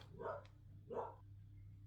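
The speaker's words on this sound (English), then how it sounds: "I was hoping to wait out the dog barking" A dog barks twice indoors, two medium-loud, evenly spaced barks from a short distance, over a steady low hum with no talking.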